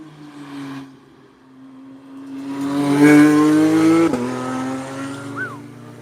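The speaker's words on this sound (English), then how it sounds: "Porsche coming in hot." A Porsche rushes past fast, its engine tone rising and peaking loud up close, then dropping sharply as it passes and fades out.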